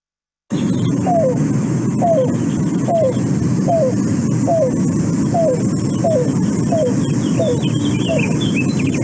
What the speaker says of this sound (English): If we compare that to the cuckoo, it's going to sound a lot happier about life.